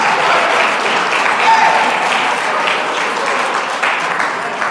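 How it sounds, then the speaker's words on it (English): Audience applause at a 2025 cohort welcome ceremony, a room full of people clapping steadily and fairly loudly, with faint voices mixed into the sustained patter. "So one more big round of applause for the 2025 cohort."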